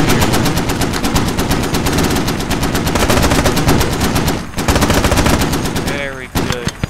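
Marines fire a .50 caliber machine gun in a loud, continuous rapid burst of heavy rounds that briefly pauses, resumes, then tapers off into scattered shots and ringing echoes.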